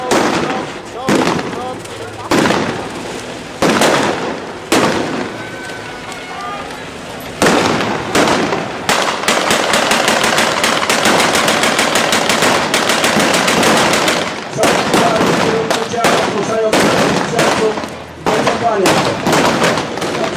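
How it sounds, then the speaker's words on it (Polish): Loud, dense bursts of gunfire and booming shots, with rapid volleys crackling close by and voices shouting in between, at a reenactment of the 1939 Battle of Mszczonów. "Strzały Kaczyńskiego nie były już tak skuteczne."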